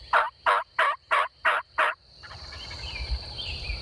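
A wild Osceola turkey in Florida gobbles six times in a quick, evenly spaced series, loud and fairly close, followed by a low rumbling background with faint distant bird calls.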